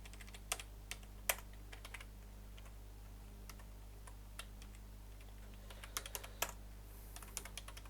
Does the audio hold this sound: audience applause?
no